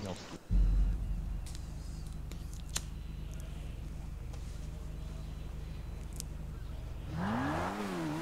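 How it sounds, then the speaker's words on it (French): Three-wheeled Stryder motorbike in GTA 5 parkour, its engine a steady low drone throughout with occasional clicks, then revving up with rising and falling pitch near the end. "C'est quoi cette moto de merde"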